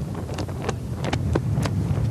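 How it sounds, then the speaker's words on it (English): Strong gusting wind of nearly 20 miles an hour blows across a beach during a land yachting contest, a steady loud rush with sharper buffets against the microphone. "it's gusting nearly 20 miles an hour"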